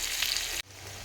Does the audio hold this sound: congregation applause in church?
no